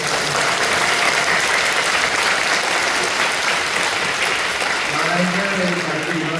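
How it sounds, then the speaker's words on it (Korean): A church congregation applauds the youth worship team, dense sustained clapping from many hands filling the room throughout, with a voice starting to speak over it near the end. "청년들, 청소년들을 사랑하고 격려하고 기뻐하는 마음으로 박수 한번 해주시죠"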